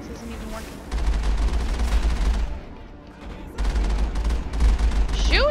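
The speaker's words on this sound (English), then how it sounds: "Stop shooting at me!" Bursts of gunfire in the Mass Effect video game, loud sustained volleys with heavy low booms, a brief lull in the middle, then renewed shooting and a rising whoosh near the end.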